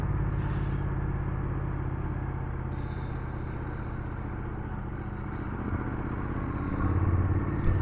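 A Triumph Bonneville motorcycle ridden on a road and over a speed bump gives a steady engine drone with wind rumble, swelling slightly louder near the end, with no talk.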